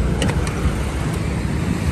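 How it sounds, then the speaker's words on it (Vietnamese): A 2009 Chevrolet Spark, an ex-taxi, idles steadily with its engine running smoothly, giving a low, constant hum at close range with no talk over it. "Máy êm lắm."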